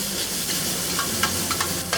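Butterflied shrimp frying in a pan, a loud, close sizzle and hiss with a few brief spatters and stirring clicks throughout.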